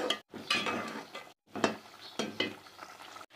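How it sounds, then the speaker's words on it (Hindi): Spices with kasuri methi and salt and chili roast in a pan for potato and spinach curry, giving close sizzling and crackling frying with repeated scraping stirs of a spoon, broken by brief pauses. "नमक मिर्च आप अपनी मर्ज़ी से डालें, और इसकी अब हम अच्छे से भुनाई कर लेते हैं।"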